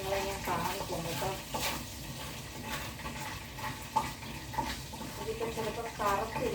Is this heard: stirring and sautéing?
yes